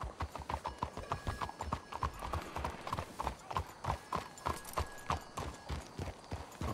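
Horses' hooves clip-clop at a steady walking rhythm in a video game, close and fairly quiet, with a faint tonal hum in the background and no talk.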